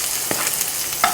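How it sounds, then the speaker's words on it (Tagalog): Onions hitting a hot frying pan, giving a steady sizzle with a few sharp clinks near the start and end, close and moderately loud, with no voices. "Okay, so lagyan natin ang sibuyas."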